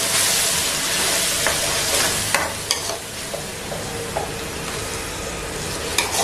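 Homemade masala tipped into a hot pan sizzles steadily while being stirred, a continuous close frying hiss broken by a few sharp scrapes and clinks of the spoon against the pan.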